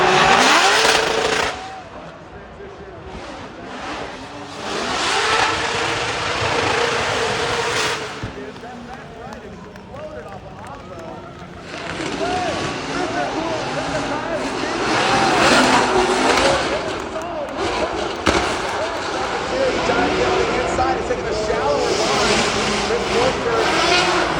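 Drift cars at a Formula Drift event in Long Beach roar and rev loudly, engines surging and fading with bursts of tire squeal, while a commentator talks over the noise.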